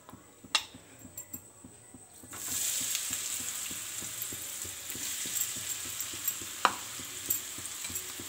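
Potatoes fry in a pan, first as a series of quiet stirring taps, then as a steady crisp sizzle with an even hiss and occasional louder clinks of the utensil against the pan.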